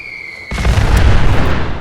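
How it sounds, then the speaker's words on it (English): A cluster rocket from an RPG-7V2 launcher in Fallout 4 fires with a brief whine, then bursts into a loud, sustained rumbling explosion that roars close by for over a second. "These are the cluster ones, which you got to shoot in the air like that."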